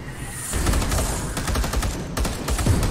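Bolter guns fire in the Space Hulk video game: rapid, heavy bursts of booming shots overlap in a continuous loud barrage, close up, with no speech over them.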